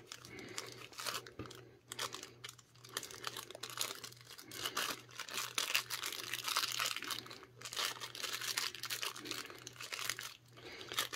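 A small parcel bag is opened with close, irregular crinkling and crackling rustles throughout. A faint steady hum sits underneath, and no one speaks.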